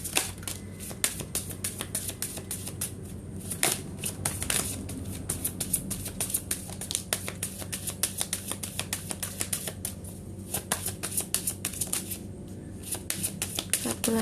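Tarot cards are shuffled by hand, a dense run of crisp riffling and slapping clicks that continues nearly nonstop, close and clear, over a faint low background hum.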